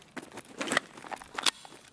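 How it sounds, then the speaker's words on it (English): Footsteps in the video game Escape From Tarkov, a player jumping up and landing on metal: a few quiet, scattered thumps and clanks close by, with a brighter metallic hit near the end. "Heard him jump up. Heard him on metal."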